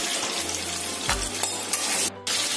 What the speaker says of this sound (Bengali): এবার এই তেলেই আমি কেটে রাখা আলুগুলো ভেজে নেব।